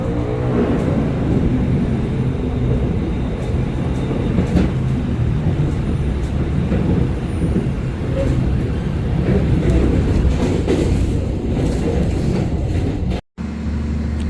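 The Jayabaya train runs through Blimbing station without stopping, heard as a continuous rumbling clatter of wheels and carriage, steady and fairly loud, with a very brief dropout near the end.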